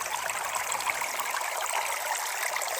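Water sloshes and trickles steadily in a gold pan as river gravel and ironstone are worked down to the heavies, close and continuous with no talking.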